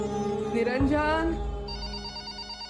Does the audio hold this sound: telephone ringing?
yes